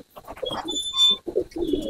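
Pigeons cooing in a loft, several close, throaty coos in quick succession with a few higher chirps mixed in.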